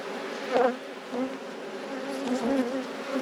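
Honeybees from a very large, queenless hive buzz around a frame, a continuous droning hum that swells and dips as individual bees pass close, fairly quiet with no talking.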